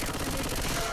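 Rapid automatic gunfire from the co-op zombie shooter Left 4 Dead 2 rattles in one loud, continuous burst lasting about a second.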